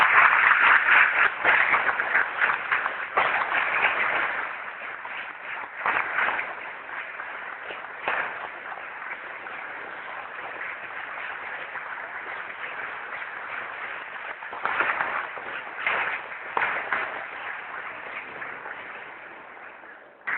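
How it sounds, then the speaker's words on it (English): Sustained applause from a school prize-distribution audience giving parents a standing ovation, a dense steady patter of clapping that stays fairly even for about twenty seconds and tapers slightly at the end. "Stand up and give a round of applause to your parents"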